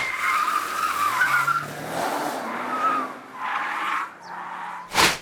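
Tires of a 2023 Nissan Qashqai e-POWER squeal and skid repeatedly through a slalom and moose-test avoidance manoeuvre, loud rising and falling screeches over engine noise, ending in a sharp burst.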